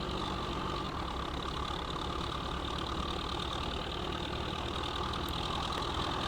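A tractor engine idles steadily in Farming Simulator 15, a continuous low rumbling drone at a moderate, even level throughout with no speech.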